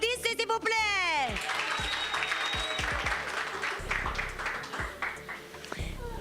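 Audience applause at a French-language talk for International Women's Day, March 8, moderate clapping from a crowd mixed with voices, shouts and whistles, the hand-clapping rising and continuing steadily after a noisy opening.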